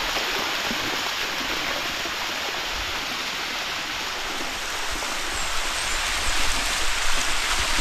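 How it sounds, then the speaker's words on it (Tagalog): Waterfall and flowing stream water at a rocky outdoor spot, a steady, loud broadband rush that fills the whole clip without pause, swelling slightly toward the end, with no voices. "Busay guys, busay."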